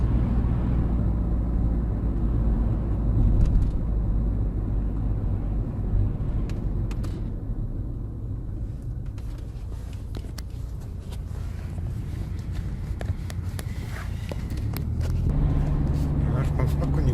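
Steady low rumble of road and engine noise heard from inside a moving car, continuous and fairly loud throughout with minor swells, no sharp events standing out.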